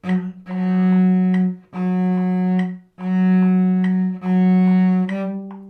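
Bowed cello notes in a slow, steady melody from the Waltz from Sleeping Beauty, four long sustained tones with brief gaps between bow changes, close and clear with no talking.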